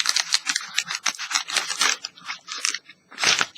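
Scissors snip through a crinkly Japanese snack bag up close, in a quick series of crunchy, papery cuts with brief pauses between strokes.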